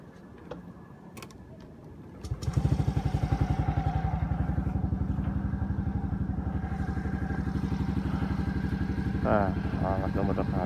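A Yamaha Mio Gear 125 scooter engine cranks with a few clicks, catches, and settles into a steady, close putter of idling, with a brief rise near the end.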